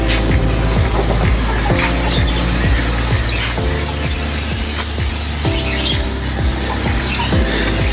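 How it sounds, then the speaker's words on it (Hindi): Insecticide spray hisses steadily and loudly around a bird enclosure, with a rhythmic pumping pulse and faint bird chirps in the background. "और ये अभी स्प्रे किया जा रहा है।"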